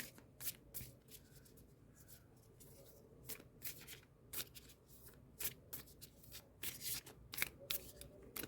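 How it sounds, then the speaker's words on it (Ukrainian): Oracle cards shuffled by hand, a close series of crisp riffling flicks and soft paper rustles in irregular bursts, fairly quiet with no talking. "Як вони класно шушать."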